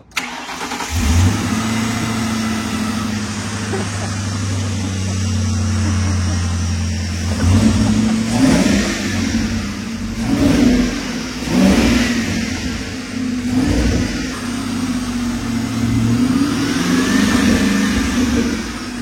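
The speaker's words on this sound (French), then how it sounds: "on va essayer de démarrer la voiture pour la première fois avec le nouveau faisceau" A car engine cranks and catches, then runs with a steady mid-pitched rumble and several revs rising and falling, loud and close, no talking.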